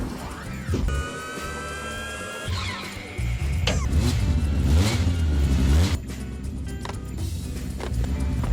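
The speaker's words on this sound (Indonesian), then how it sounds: "Daniel melaju kencang menuju bandara." A modified taxi car speeds toward an airport, its mid-pitched engine revving and accelerating loudly and close, with rising whine and tire noise building over several seconds and swelling to a strong roar near the end.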